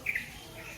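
A brief high bird chirp near the start, then a fainter call later, over a soft background hiss.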